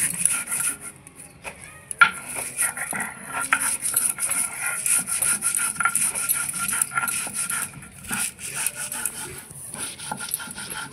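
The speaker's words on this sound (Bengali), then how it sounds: "কাঁচা লঙ্কা, ধনে পাতা, লবণ, এই যে সুলুক আমি বেটে নেব এখন।" Green chili, coriander leaves and salt ground by hand on a stone, with rhythmic rubbing and scraping strokes close by, irregular knocks and a sharp clack early on, and no voices.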